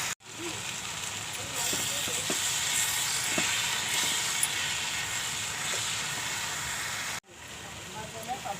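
Fenugreek leaves hit a hot pan for a dhaba-style methi sabzi, giving a steady, loud broadband sizzle and hiss that holds for about seven seconds, breaks off abruptly, then resumes.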